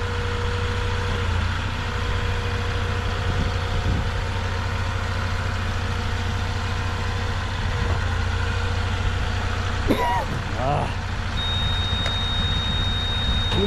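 A Lowe's delivery truck engine runs steadily near a driveway, a low continuous rumble with faint reversing beeps in the background and a brief clatter near the end.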